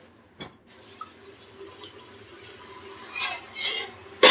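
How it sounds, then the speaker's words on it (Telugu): Water is poured into a pan of fish curry simmering on a low flame, soft trickles and drips building into a couple of brief louder splashes near the end, quiet and close with no talk. "ఇప్పుడు దీంట్లో కొంచెం వాటర్ పోసుకుందాం."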